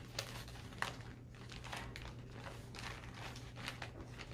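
Plastic bag crinkling and rustling as cross-stitch supplies are stuffed back into it, with soft irregular crackles spread across the clip over a steady low hum and no speech.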